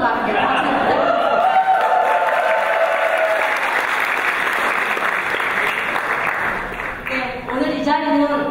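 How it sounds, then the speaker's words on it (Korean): An indoor audience at a lecture on the Sewol ferry disaster breaks into sustained applause with some cheering and light laughter, fading as a speaker's voice returns near the end. "저도 다시 함성과 함께 박수 부탁드립니다"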